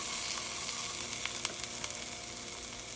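Capsicum and curry leaves frying in a pan for bisi bele bath, a steady close sizzle with crackling pops running throughout, no voices.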